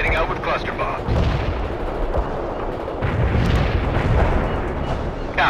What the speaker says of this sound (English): Nice man heading out with cluster bombs.